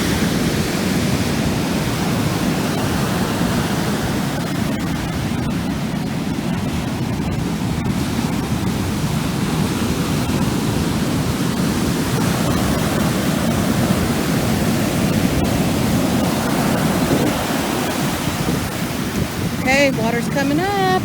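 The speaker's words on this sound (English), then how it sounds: "But listen to the roar of that ocean." Roar of ocean waves breaking on a beach on a windy, rainy day, a loud, unbroken low rumble of surf mixed with wind buffeting the microphone throughout.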